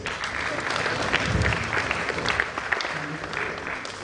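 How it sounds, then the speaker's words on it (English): A crowd at a prize giving ceremony applauds graduates, including the best first-year IT certificate student, with dense steady clapping throughout and some voices mixed in. "Will you clap, please?"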